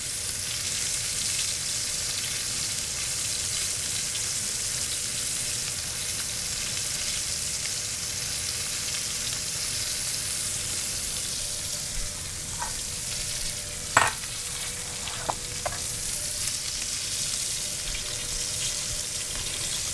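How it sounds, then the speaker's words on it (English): A New York strip steak stood on its fat edge sears in a hot pan, giving a steady, even sizzle throughout, with a few faint clinks and knocks near the middle and no talking. "after I've seared both sides, I like to stand them up and get that fat nice and crispy as well"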